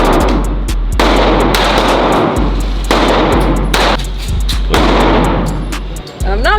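Repeated gunshots at an outdoor gun range, loud sharp cracks spaced irregularly over a constant low rumble, with people talking in the background.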